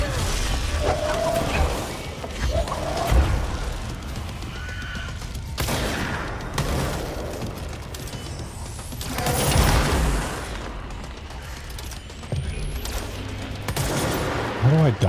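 Gunfire in the video game Control: dense, near-constant bursts of shots and crashing impacts amid a loud, chaotic firefight, continuing throughout with no pause.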